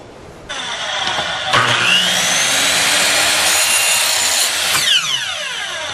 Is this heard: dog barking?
no